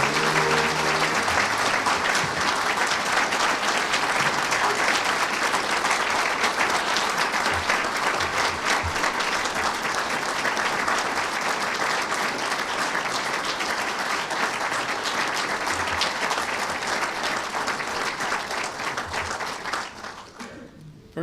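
Sustained audience applause honoring Vietnam veterans at a ceremony, a dense, steady clapping from a large crowd that holds loud for about twenty seconds before tapering off at the end.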